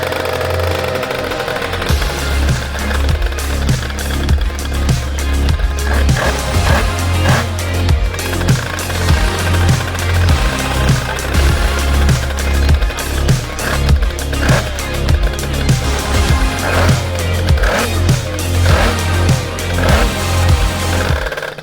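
A rough-running motorcycle with about 28,000 kilometers on it idles and revs loudly and steadily nearby, its low engine rumble pulsing throughout with faint voices underneath.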